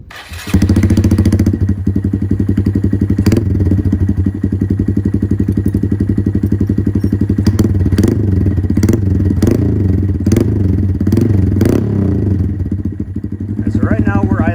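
Honda Grom motorcycle with loud dual exhaust and the dB killer removed starts up and settles into a loud, steady, throbbing idle close by, with a few brief blips and talk in the background.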